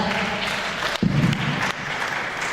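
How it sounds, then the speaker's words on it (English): An audience at a housing panel event in San Antonio applauds in a brief steady burst of clapping, with a thud partway through. "Another round of applause for panel one."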